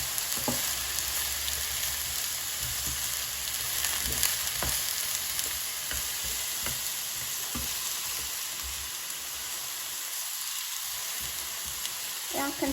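Pineapple pieces sautéing in a frying pan, a steady close sizzle and crackle with occasional stirring clicks and scrapes, plus a brief soft voice near the end.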